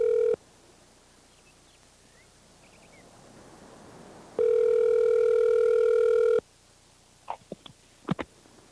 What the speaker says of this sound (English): I guess we'll call Freddie